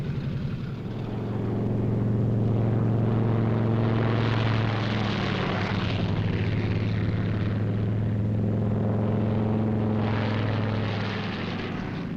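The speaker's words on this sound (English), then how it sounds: "timed to the escort schedule, the P-38s get underway" P-38 fighter planes take off, their piston engines roaring as a loud, sustained droning hum that swells and holds for several seconds, with a deep steady drone beneath.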